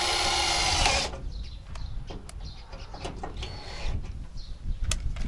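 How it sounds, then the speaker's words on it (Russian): A power drill drives a self-tapping screw into the damaged body panel of a ZAZ-968 car during bodywork repair, a loud whirring burst at first, then fading into quieter workshop sounds with faint scattered clicks. "Закручиваю саморез."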